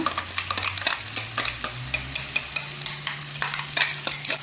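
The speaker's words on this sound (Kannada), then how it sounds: "ತುಪ್ಪವನ್ನು ಹಾಕ್ಕೊಂಡು ತುಪ್ಪದಲ್ಲಿ ಇದನ್ನು ಸ್ವಲ್ಪ ಫ್ರೈ ಮಾಡ್ಕೊಳ್ಳೋಣ." Ghee frying in a pan as carrot rasamalai is prepared, a steady soft sizzle broken by repeated scraping and stirring taps, close and fairly quiet, with no talking.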